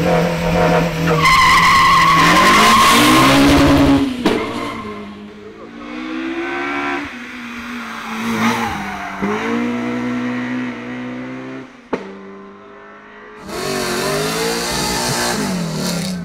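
A TWR Rover SD1 V8 racing car climbs a hill, its engine revving hard through rising and falling pitch sweeps with gear changes, loud and close, with a sharp brief gap and a final roaring pull.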